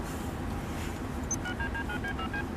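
A row of short electronic speed-dial tones from a car phone, beeping in a quick, even sequence over steady background hiss, with no talk.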